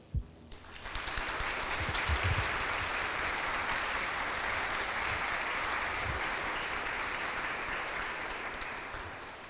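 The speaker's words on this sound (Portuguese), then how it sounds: "Eu vou pedir de novo para eles a força de um aplauso." A church congregation applauds, the clapping swelling quickly after a few sharp opening claps into a broad, sustained roar that holds steady for several seconds before gently fading, heard at a moderate distance in a reverberant hall.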